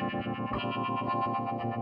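An electric guitar rings out with a harmonic note pulsing in a quick, even harmonic tremolo from an EarthQuaker Devices Night Wire pedal, colored by a swirling phaser effect, heard alone.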